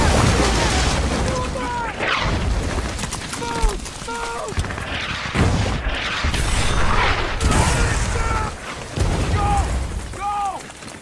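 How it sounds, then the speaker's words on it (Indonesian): Heavy artillery shells burst in a WWII battle scene on Okinawa, repeated booms and crackling blasts rolling over a continuous din of battle, with shouting voices breaking through between impacts. "serangan artileri menghujani para marinir"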